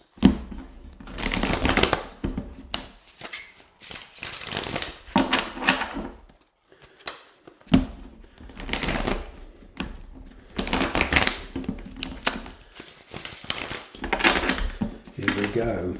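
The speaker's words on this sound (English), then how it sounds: "A couple more shuffles." Tarot cards being shuffled in bursts of crisp riffling and papery slaps, with short pauses between shuffles and talk around them.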